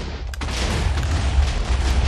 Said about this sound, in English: this is going to be a big explosion